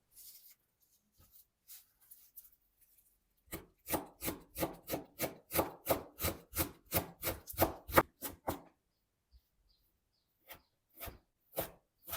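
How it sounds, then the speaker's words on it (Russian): Rapid, even knife strokes finely chopping celery on a wooden board, a run of about twenty quick cuts, with a few scattered taps before and after. "У меня сегодня сельдерей. Мелко шинкуем и отправляем к остальным ингредиентам."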